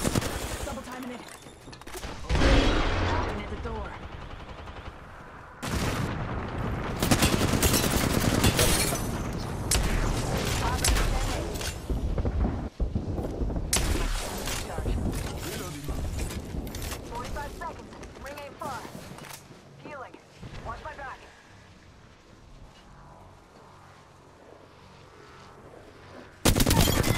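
Bursts of gunfire in a battle royale video game, repeated volleys of rapid shots with booms and mechanical clicks, on and off over a long stretch amid game callouts and voices.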